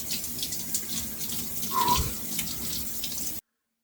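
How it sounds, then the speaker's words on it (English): A cold shower runs steadily in a bathroom, its water hissing evenly and close for about three and a half seconds before cutting off into silence. "so quickly gonna finish the shower and then I will talk a bit more afterwards."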